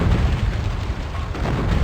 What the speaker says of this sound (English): I'm gonna keep shooting at them until they die.